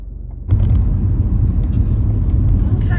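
A car drives along a street and turns around. A steady low engine and road rumble is heard close by, and it grows louder and fuller after the first half second. No one speaks.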